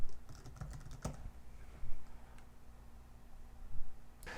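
Typing on a computer keyboard, a few scattered, soft clicks close by over a faint steady hum, with quiet gaps between keystrokes and no talk.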